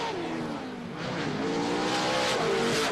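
Pro 2 off-road racing trucks from the 2009 LOORS championship accelerate around a dirt race track. Their engines roar loudly and continuously, and the rising, overlapping engine pitches show more than one truck revving hard close by.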